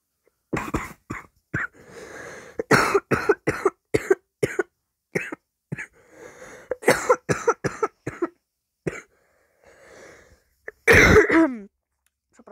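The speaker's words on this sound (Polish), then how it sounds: "Kaszel." Repeated sharp coughs in irregular bursts, some clustered, with a throat-clearing sound near the end, close and fairly loud, while playing Gangstar Vegas.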